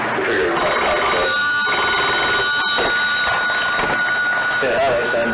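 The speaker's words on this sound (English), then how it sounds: "We was interrupted by a phone call" A telephone rings in a police interview room, its steady electronic tones sounding continuously beneath voices and room noise.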